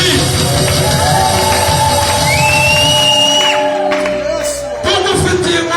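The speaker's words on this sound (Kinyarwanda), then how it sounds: "icyubahiro n'impundu nyinshi." A church congregation ululates and cheers in loud, sustained joy, high trilling cries and shouts layered over the crowd, with voices carrying through and a brief dip before the noise swells again.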